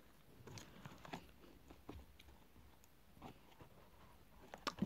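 Someone crunching and chewing Kingsford charcoal during a taste test, irregular gritty bites and grinding close to the mic, quiet, with a louder crunch near the end and no talking.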